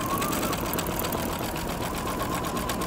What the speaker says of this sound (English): I'm gonna be able to stitch right on that line